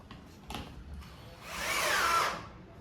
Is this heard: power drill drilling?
yes